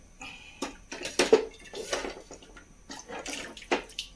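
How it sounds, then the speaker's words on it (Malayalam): Water splashes and sloshes in a mixer grinder jar in short bursts as it is rinsed, followed by pouring, close by with a few clinks. "കുറച്ചുകൂടി വെള്ളം മിക്സിയുടെ ജാറിലൊന്ന് ഒന്ന് കഴുകി ഒഴിക്കുക ചുറ്റി ഒഴിക്കുക"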